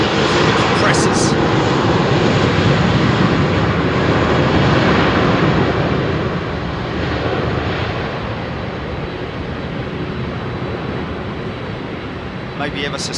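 A jet airliner taking off at London Heathrow Airport in smoky air, a loud continuous engine roar filling the whole stretch and easing slightly toward the end, with voices talking faintly beneath it.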